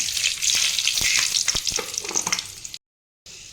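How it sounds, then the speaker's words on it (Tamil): Fenugreek seeds hiss and crackle in hot oil for a garlic and onion curry, a steady close sizzle with a few sharp pops, then a brief silence before the frying resumes. "இப்போ எண்ணெய் காஞ்சிருச்சு வெந்தயம் சேர்த்துக்கலாம்"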